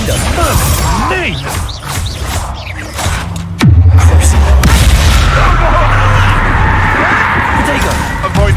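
In the Hogwarts Legacy video game, a Confringo fire spell goes off as a sudden loud blast that settles into a rumbling roar, following chaotic combat noise, with a person talking in the clip.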